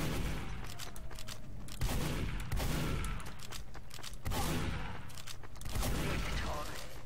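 Continuous gunfire and blasts in a Team Fortress 2 1v1 tournament match, dense overlapping shots and booms throughout with a voice faintly under the action.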